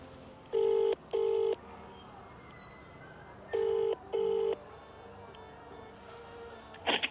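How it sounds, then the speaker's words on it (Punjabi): Keypad tones beep in two quick pairs, a clear electronic dialing pattern over a quiet background, ending with a brief click. "ਮੈਂ ਲਗਾਤਾਰ ਫੋਨ ਲਾਈ ਜਾਂਦਾ"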